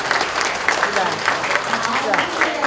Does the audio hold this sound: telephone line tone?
no